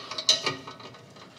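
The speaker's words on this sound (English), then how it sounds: "Now that this is level, we can tighten up that middle hanger." A ratchet tightening the middle exhaust hanger bolt on a 2000 Dodge Viper, a quick burst of close metallic clicks that trails off.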